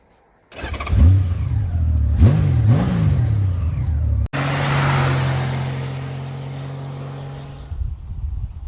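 Honda Goldwing motorcycle engine cranking and firing up after sitting through the winter, then rising and falling through a couple of revs before settling into a loud, steady idle close by.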